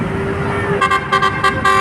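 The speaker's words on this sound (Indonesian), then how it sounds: "Dan bus berbunyi saudara." A bus horn at a busy bus terminal gives a rapid series of loud, close toots, roughly five short blasts in under a second, after a stretch of idling engine noise.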